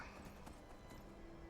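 Horse hooves clip-clop steadily at a riding pace in the Skyrim video game, faint and even under game ambience.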